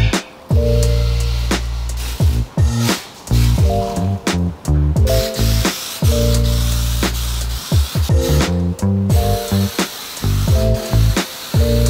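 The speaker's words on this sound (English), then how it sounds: "it's finally time for the last job with this welding table, and that is paint" Spray paint goes onto a welding and fixture table in a workshop, as loud hissing bursts of varying length, each cut off by a short gap, repeating close up throughout.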